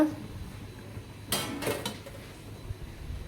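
Baby bottles being washed in a home kitchen, a quick burst of plastic clattering and rattling against other dishes in the middle, close but fairly quiet over a low background hum.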